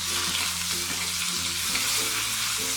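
Dried red chillies, curry leaves and ground pepper sizzle steadily in hot oil for a pepper chicken tempering, with a continuous close frying hiss and a few soft stirring scrapes and no talking.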